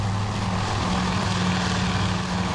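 Torpedo bombers in a carrier combat game drone steadily with a loud, constant propeller-engine hum that holds an even pitch throughout, with no talking.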